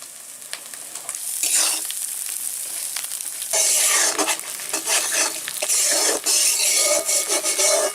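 Spice masala with turmeric and salt sautéed in oil in a pan at a village kitchen, a loud crackling sizzle with repeated rough scraping strokes of a spatula, growing busier partway through, with no talking.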